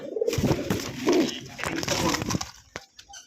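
Rajgolla pigeons coo close by in a few soft, throaty, rolling bursts, with brief pauses and a rustle near the end.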